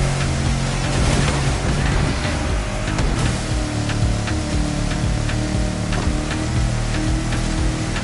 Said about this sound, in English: These waves are not easy to navigate.